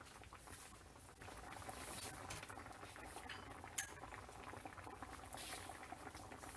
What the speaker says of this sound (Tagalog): Hayaang kumulo for 5 minutes.